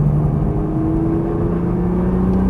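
A Nissan GT-R accelerates out of a corner with a loud, steady engine drone and a sustained tonal whine. Nothing else is heard over it.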